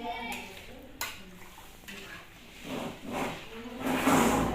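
A spoon scrapes and clinks around a pot of simmering kadhi, a yogurt curry, in a few distinct knocks followed by swelling wet stirring swirls, close and moderately loud.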